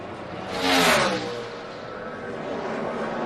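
NASCAR Sprint Cup car heading onto the Texas racetrack during qualifying, an engine roar that swells as it passes close, then settles into a steady distant drone.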